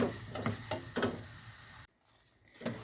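Semolina being stirred as it fries in oil for Turkish halva, a soft sizzle broken by several scraping stirs, then a short lull and one more stir.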